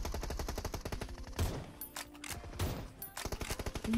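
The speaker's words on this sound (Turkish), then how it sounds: "Ne kadar kötü bir silah bu." Rapid automatic gunfire from a gun in the mobile battle royale game PUBG Mobile rattles in fast, evenly spaced bursts, with a short pause mid-clip before firing resumes, fairly quiet overall.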